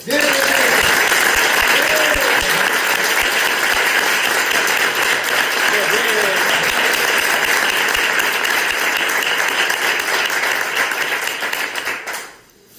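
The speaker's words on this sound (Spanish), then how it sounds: "os pido un aplauso para él" An audience at a meeting of the Paso Morado brotherhood in Lorca, held to elect a new president, breaks into loud, sustained applause that lasts about twelve seconds before cutting off.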